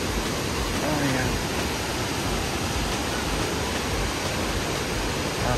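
Daday Falls in Alamada, Cotabato, pours as a dense, steady roar of broadband rushing water, loud and unbroken throughout, with faint voices underneath.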